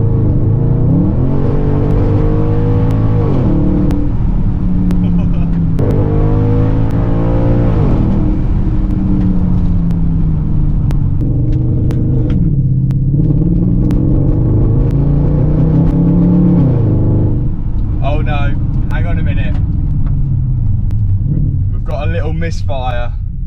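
An Audi S5 with a slight engine misfire accelerates in long rising revving pulls from inside the car, its engine drone loud and steady, while people talk over it throughout.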